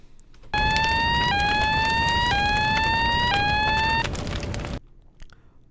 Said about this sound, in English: That's just me turning off the little siren effect.